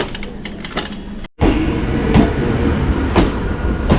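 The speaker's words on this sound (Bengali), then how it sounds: "তো দেখো আর একটা ট্রেন সকাল সকাল চলে আসলো সাইড থেকে আর আমরা ট্রেনে বসে আছি" A second train rolls past alongside a stationary passenger train in the early morning, a loud steady rumble with rail clatter and sharp clicks after a brief dropout.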